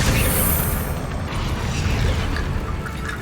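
A Confringo blasting spell explodes in Hogwarts Legacy, a loud, dense booming rumble with crackling debris that stays heavy and sustained for a few seconds without pause.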